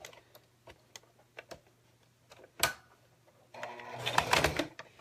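A sewing machine stitches a zipper, running in a short burst of rapid mechanical chatter near the end, after scattered light clicks and a brief handling thump.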